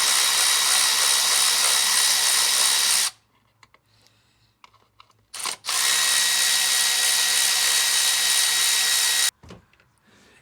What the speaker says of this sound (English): And then 10mm socket. Remove these two bolts.